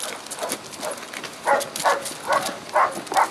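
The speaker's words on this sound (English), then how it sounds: "Stop fighting my dog!" Dogs barking and scuffling in a fight, sharp repeated barks and yelps in uneven bursts, fairly close, with some background noise.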